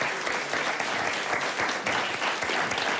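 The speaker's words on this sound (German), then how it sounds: "großen Applaus, Dankeschön" Steady, dense audience applause at a Vienna cultural talk show, an even roar of many hands clapping that fills the whole stretch without pause.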